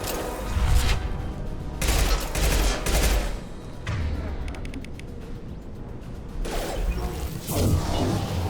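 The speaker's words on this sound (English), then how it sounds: "Firing concussive shot!" Concussive shot fired in Mass Effect 2 during combat, with heavy booming blasts and mechanical clatter in bursts, loud and close, under voices.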